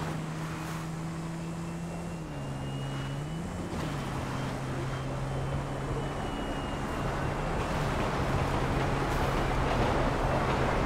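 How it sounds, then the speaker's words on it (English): A slow-flying airplane in GTA V drones steadily with a loud, constant engine hum whose pitch dips and shifts slightly, with wind rushing underneath and no speech. "I'm glad this plane's flying slow"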